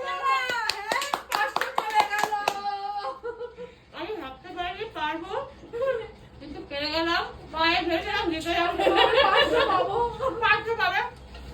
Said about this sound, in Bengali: একটা হাততালি হয়ে যাক